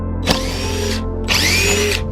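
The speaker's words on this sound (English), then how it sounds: "So we finally got our hands on some electric drills." Electric drill running in two bursts, a short whine then a longer one after a brief pause, close and loud, on an architecture students' design-and-build project site.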